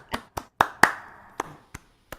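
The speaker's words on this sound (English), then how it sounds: "First of all, I want to clap." A small open-mic audience claps after a song called Composition F, just a handful of sparse, separate hand claps spaced irregularly, fairly close and clear with no talking.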